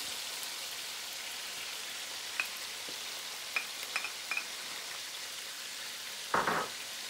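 Onions sizzle steadily in a frying pan as a soft, even hiss, with a few light clicks and a brief louder burst of spattering near the end.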